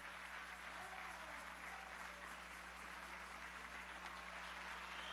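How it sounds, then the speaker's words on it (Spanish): Applause during a session of the National Constituent Assembly, a steady, even wash of clapping from a large hall crowd, sustained and faint for the full stretch. "vamos a darle un aplauso al compañero Diosdado,"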